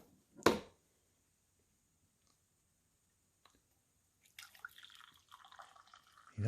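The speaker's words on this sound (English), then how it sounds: "we're going to see how this pours" Coffee pours from the glass carafe of a Keurig K-Duo 12-cup coffee maker: a faint early click, near silence, then a soft, uneven liquid trickle in the last couple of seconds.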